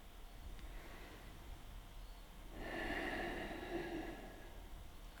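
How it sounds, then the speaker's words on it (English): Slow, deep breaths drawn in and let out during a calm yoga flow, faint and close, with a soft, longer airy exhale swelling near the end. "Take 2 deep breaths in and out."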